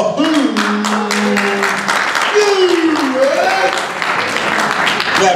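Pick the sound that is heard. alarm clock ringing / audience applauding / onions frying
audience applauding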